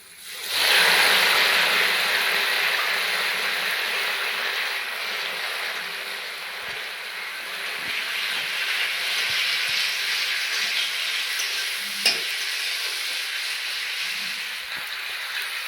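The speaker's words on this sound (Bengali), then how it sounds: "ভালো করে ভেজে নিয়েছি দিয়ে দেবো কেটে রাখা আমগুলো" Cut raw green mango pieces hit hot oil in a pan for a sour chutney, setting off a loud, steady frying hiss that holds for the whole stretch with a brief clack near the end.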